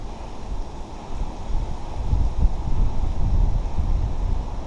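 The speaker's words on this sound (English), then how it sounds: "It's like an October blizzard here in northern Illinois." Blizzard wind in northern Illinois in October blows in a continuous low roar and rushes against the microphone, swelling louder midway and staying strong to the end.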